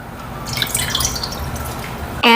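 Water is added to a cooking pan for laing, coconut-leaf stew, with bright dripping and splashing over a low background hum, ending in an abrupt louder clatter.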